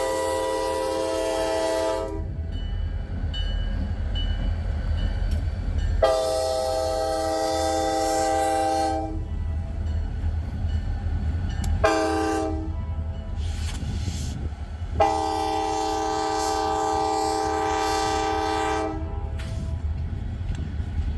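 Wheeling & Lake Erie locomotive 7026 rolls past a grade crossing, sounding four loud horn blasts in a long-long-short-long pattern over the steady rumble and clatter of the passing train.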